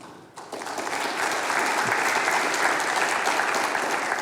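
Audience in a room at a monthly event bursts into applause, rising quickly from silence into steady, sustained clapping from many hands.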